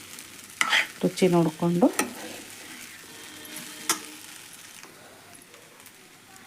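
Potato sabudana khichdi fries in oil as a spoon stirs through it, several scraping strokes in a row and then a steady soft sizzle, with a voice speaking briefly.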